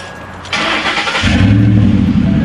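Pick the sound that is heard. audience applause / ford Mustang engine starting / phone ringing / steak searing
ford Mustang engine starting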